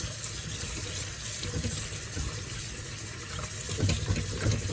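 Tap water runs in a steady, continuous gush into a sink while kimchi gets its final rinse, close and even in level throughout.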